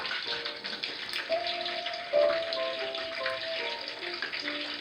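Battered mini corn dogs frying in hot oil give a steady, close hiss and crackle with dense bubbling that holds evenly throughout, with no voices.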